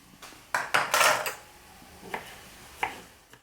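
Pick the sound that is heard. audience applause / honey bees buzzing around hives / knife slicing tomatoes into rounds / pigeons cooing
knife slicing tomatoes into rounds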